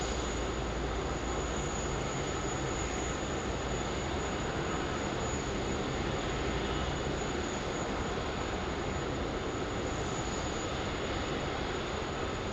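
Two retro-liveried Qantas Boeing 737 jets at an airport give off a continuous, dense roar of jet engines that fills the whole stretch at an even, fairly strong level.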